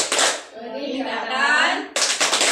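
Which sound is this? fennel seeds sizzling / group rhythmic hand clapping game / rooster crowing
group rhythmic hand clapping game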